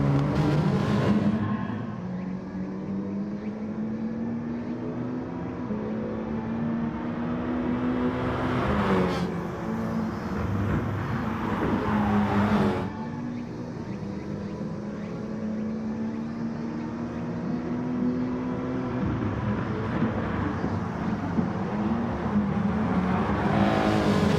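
Race cars in a racing video game run close together, a steady loud engine drone with rising and falling pitch, a surge of revving as the pack passes around the middle, continuous with no talk.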